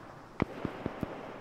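Mortar shell explosions in the video game Arma 3, four quick muffled thuds in a row, distant-sounding and fairly faint, with no talk over them.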